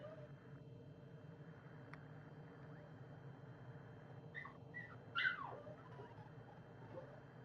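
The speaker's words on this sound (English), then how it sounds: "I don't know if you can hear my dogs in the background" Pet dogs whimper and give a few short yips in the background, faint and brief, over a steady low hum from a Cessna 172 flight simulator.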